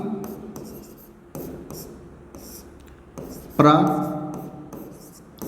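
Chalk or marker strokes scratch across a board in a physics class, several short bursts of rubbing with pauses between them, close and fairly loud, while a teacher talks.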